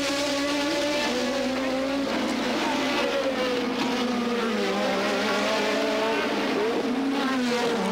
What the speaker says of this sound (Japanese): さて、レースの方はフェラーリのアルボレートとマクラーレンのプロストが凄まじいデッドヒートでトップ争いを繰り広げました。